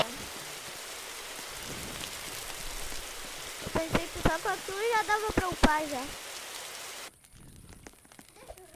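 Rain patters steadily in a video game campfire scene, a constant hiss under a person talking, then cuts off sharply near the end.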